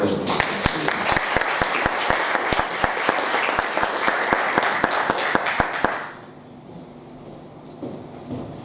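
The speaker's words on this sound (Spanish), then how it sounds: "Le vamos a recibir por favor un aplauso aparte del de esto" A lecture audience at a university architecture school's closing conference applauds to welcome a speaker, a lively burst of many hands clapping with distinct sharp claps, fading out after about six seconds into quiet room tone.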